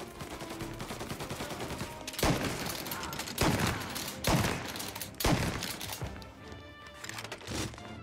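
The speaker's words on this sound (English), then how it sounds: "Somebody had a shotgun." Shotgun fire in the video game Mafia: Definitive Edition: four heavy blasts at roughly one-second intervals ring out loud and close over a dense background of combat noise and scattered gunfire.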